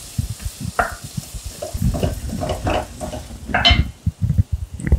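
Chopped onions sizzle and crackle in a hot pan while a utensil stirs and scrapes, producing quick irregular taps and a soft frying hiss.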